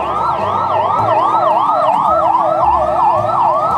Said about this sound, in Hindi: पीछे एम्बुलेंस भी आ गई है, फायर की गाड़ी आ चुकी है